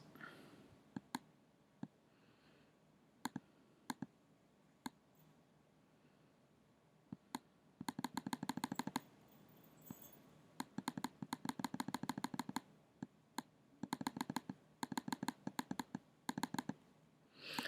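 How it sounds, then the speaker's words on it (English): Quiet, irregular clicking from a computer mouse or keys, scattered single clicks at first and then rapid bursts of repeated clicks, close by and alone. "A lot of clicking because I got the opacity pretty low."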